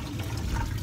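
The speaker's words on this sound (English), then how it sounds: "now we're just gonna drain the water on the water fountain thing" Water draining and splashing out of a coffee pot used to cook macaroni and cheese, a steady close pouring rush filling the short moment with no talk.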